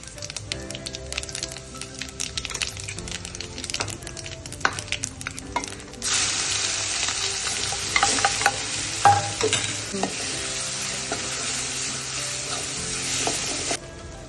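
Ginger and green chili paste hitting hot oil for a tempering while making vada pav, a loud hissing sizzle that surges in midway and holds steady, with stirring and clinks at the start and no talk.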